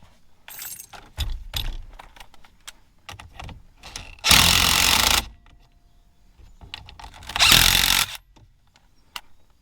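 An impact wrench fires in two loud, roughly one-second bursts, separated by clanking and rattling of tools and metal parts being handled nearby.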